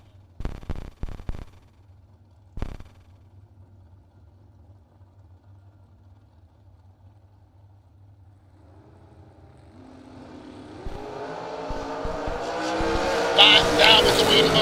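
Drag racing launch of an S10 pickup and a 1969 Camaro at a track: a few sharp pops and revs, a quiet stretch, then engine roar swelling loudly toward the end, with an announcer speaking over it.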